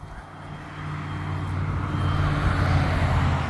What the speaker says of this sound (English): Obviously you guys can hear the traffic.